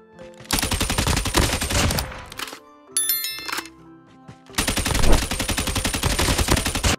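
Rapid automatic gunfire from Call of Duty Mobile target practice against moving bots, loud bursts of shots with a pause in the middle and brief metallic chimes between volleys.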